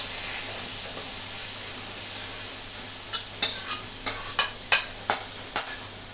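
Masala eggplant frying in a pan gives a steady close sizzle and hiss, joined near the end by a quick series of sharp scraping stirs against the pan.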